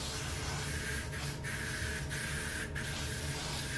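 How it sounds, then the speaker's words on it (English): Hair spray hisses continuously as it is sprayed along the front hairline of a kinky curly hair install, a close, steady spray with a few brief breaks. "I want to spray the front perimeter of my hair."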